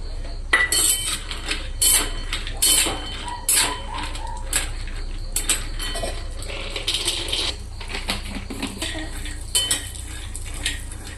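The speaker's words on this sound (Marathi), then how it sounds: "हे छान असे परतून घेतले आहे तर तुम्ही बघा सारखं याला हलवत राहायचं" Almonds being sautéed in hot ghee in a pan for spiced masala almonds, stirred steadily so metal utensil scrapes and clinks ring out in repeated bursts over a low continuous background, fairly close with no talk.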